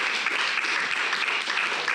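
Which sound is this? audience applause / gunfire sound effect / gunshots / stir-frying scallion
audience applause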